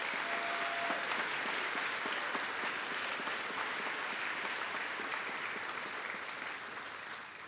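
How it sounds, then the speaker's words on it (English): A large audience at a college commencement ceremony breaks into sustained, dense applause that fills the hall steadily for several seconds, then begins to taper off slightly toward the end, with no voices over it. "I would like you all to give a round of applause for the incredible work that we"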